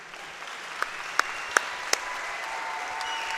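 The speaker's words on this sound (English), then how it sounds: "So give the seniors one more round of applause." Audience at a high school spring band concert gives the seniors a steady round of applause, a dense, even wash of many hands with a few sharper individual claps standing out, heard from some distance.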